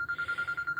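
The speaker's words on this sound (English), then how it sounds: "That's my phone." Mobile phone ringing, a brief electronic ring pulsing in quick, even beats, moderately loud and alone.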